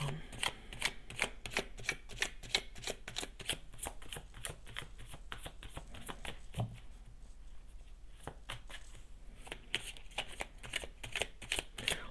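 Tarot cards shuffled by hand in a quiet room, a long run of rapid crisp riffling flutters with a short pause before more shuffling and the deck being cut, close and alone without talk.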